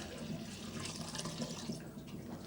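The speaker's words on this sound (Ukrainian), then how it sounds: "Зараз заливаємо віджатий відпресований виноградний сік заливаємо у чисту продезінфіковану бочку." Pressed grape juice pours into a clean, disinfected barrel during home winemaking, a steady close liquid splashing and gurgling for a couple of seconds with no voices.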